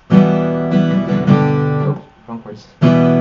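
Acoustic guitar strummed quickly through the chords of a song, full ringing chords in steady strokes, with a brief sparse gap before the strumming resumes loudly.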